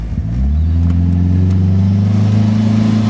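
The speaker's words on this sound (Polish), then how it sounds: "zademonstruję Ci jego przyspieszenie" A car revs hard while stationary, its engine rising into a loud, steady high-rpm drone that holds close and strong to the end.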